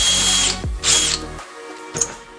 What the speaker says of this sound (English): So I'm just gonna drill these holes where I want them to mount these things.